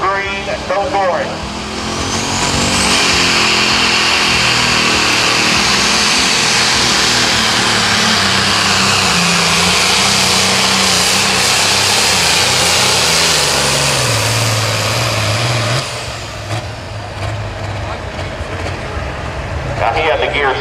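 A pro stock pulling tractor at a Friday night PPL Western Series pull in Mound City, Missouri, roars loudly and steadily down the dirt track, its engine note shifting as it labors, with an announcer talking over it.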